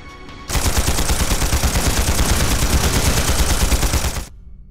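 Sustained rapid automatic gunfire in Trails Through Daybreak, a loud, dense burst lasting nearly four seconds, then cutting off abruptly, with no voices over it.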